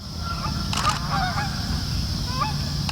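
Canada geese honk repeatedly on a September hunt in Maryland, answered by a Jeff Hughes goose call, the sharp honks and clucks rising over steady wind and field noise in a continuous close chorus.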